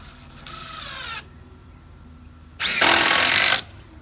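A power drill driving a screw into tiny house subfloor framing whirs in two short bursts, the second louder and rougher, separated by a quiet pause.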